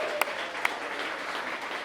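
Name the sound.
wedding guests applauding the two moms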